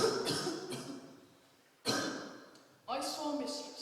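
A boy coughs in a few short harsh bursts, with pauses between the fits, close and fairly loud.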